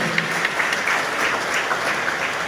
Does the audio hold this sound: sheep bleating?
no